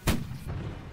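A rocket blast in the Holdfast: Nations At War line battle game, one sharp, very close explosion at the start with a rumbling tail that fades out, no talking.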